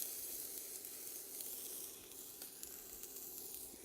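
Peppers with shallots sizzle in a pan on high heat, a steady, dense frying hiss that runs unbroken and fairly loud with small crackles throughout.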